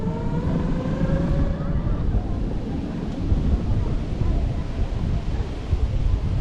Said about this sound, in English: it's not the warmest day. It's quite blowy.